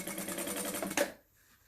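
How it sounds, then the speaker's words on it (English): A sewing machine runs a fast, even stitching burst on silk dupion while putting in a small roll hem, then stops abruptly after about a second, leaving near silence. "I'm just putting a small little roll hem on this"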